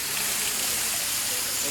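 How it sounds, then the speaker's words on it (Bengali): A waterfall at Cherrapunji pours down from a height, a steady broadband rushing roar heard up close, with a voice talking over it. "এই দেখো এই উঁচু থেকে এখান থেকে জলটা পড়ছে"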